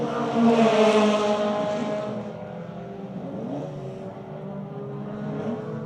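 A rotary-engined race car at Red Star Raceway roars loudly past in a heat of inland and historic racing, the engine note rising then fading into a steadier drone.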